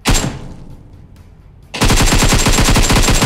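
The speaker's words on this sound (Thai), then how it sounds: "เสียง AK ครับ" An AK-47 fires in the video game PUBG: a single loud shot rings out and fades, then a sustained full-auto burst of rapid, evenly spaced rounds follows, close and dominant.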